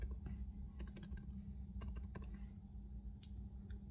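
Quiet typing on a computer keyboard, with scattered clusters of soft key clicks over a low background hum and no voices.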